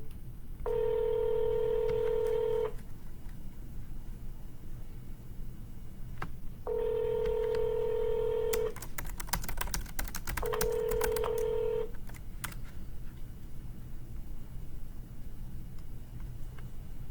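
Telephone tones during cold calls to listing prospects: three steady tones, with a quick burst of dialing beeps near the third, over a faint background hum and no talking.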